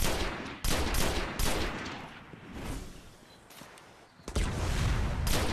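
Scout rifle fire in the Destiny alpha shooter game, loud repeated shots in bursts with brief pauses between volleys.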